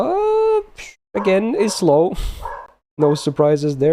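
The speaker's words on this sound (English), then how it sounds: "Excuse the dog. He's very excited for Helena" An excited pet dog barks and whines in short, arching yelps at home, tangled closely with someone talking over it.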